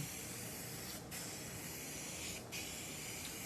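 A spray gun applies lacquer paint to a chest as a steady, close hiss that continues throughout, with two brief pauses between passes.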